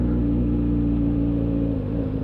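Motorcycle engines idle and rumble in a steady, continuous low drone at an international motorcycle rally, with many bikes running at once and no talk.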